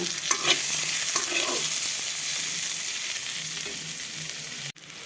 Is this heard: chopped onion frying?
yes